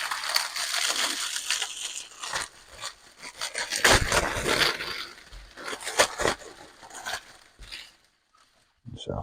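Rustling, crinkling and tearing as a Hatchet partworks Titanic model issue 118 package is opened, with close handling noises in bursts and a brief quiet pause near the end.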